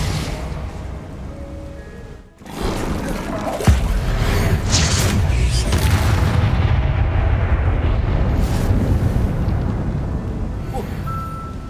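Bombarda and Confringo spells exploding in Hogwarts Legacy combat, a dense continuous roar of magical blasts with a sharp impact near the start, broad rumbling bursts layered over each other after a brief drop-out, voices calling under the din.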